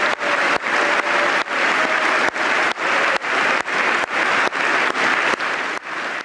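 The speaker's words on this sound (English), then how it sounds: "He's still leading the clapping" Sustained applause from a large audience, a dense, loud wash of clapping that carries on evenly, broken by brief gaps at regular intervals.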